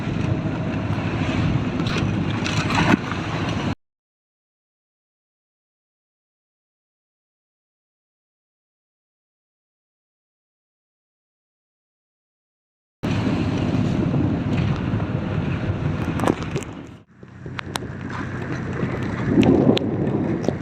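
Strong wind buffets a small fishing boat out at sea, a steady roaring rush with water noise, broken by a long silent gap before the gusts return loud and close.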